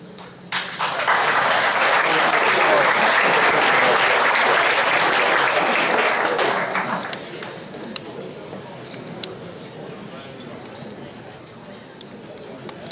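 Audience applause at an induction ceremony for a 1953 football team, loud sustained clapping for about six seconds that then fades, followed by quieter room sound with occasional scattered claps.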